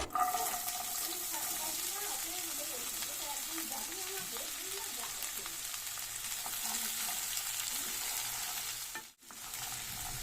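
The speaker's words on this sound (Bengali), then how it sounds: "সবজিগুলোকে এখন ঘিয়ের সাথে খুব ভালো মতো ভেজে নিতে হবে" Cut vegetables fry in ghee with whole spices and bay leaf in a wok, giving a steady, close hiss and sizzle with soft stirring scrapes, while a voice talks quietly underneath.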